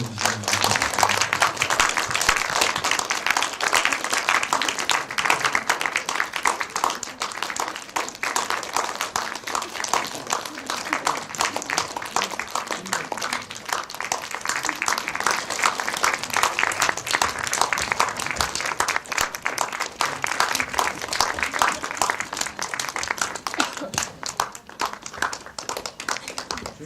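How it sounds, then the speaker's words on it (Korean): Audience at a Korean film screening welcomes the actors with long, sustained applause, a dense roar of clapping hands that holds for nearly half a minute with little change, close and loud throughout. "박수로 모셔주시면 감사합니다"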